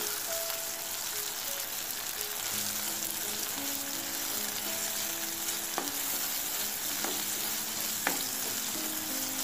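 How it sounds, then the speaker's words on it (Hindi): A sev chutney mixture stirred in a hot pan, with a steady close sizzle throughout and a few sharp scraping clicks from the spoon against the pan. "अब हम इसे अच्छी तरह से मिला लेते"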